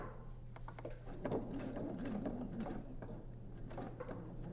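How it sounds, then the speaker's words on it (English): A sewing machine back-stitching to attach pockets onto the backing of a bedside pocket organizer, a steady mechanical whir with a low motor hum and faint rhythmic clicks, close up and alone. "I'm going to start, and I'm going to back stitch."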